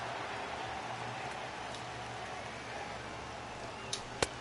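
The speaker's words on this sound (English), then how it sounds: "the rain starting to intensify here. It's coming down a little heavier now." Steady rain falls during a televised baseball game, a continuous soft wash of noise with a low crowd hum beneath and a couple of brief sharp knocks near the end; no clear talking.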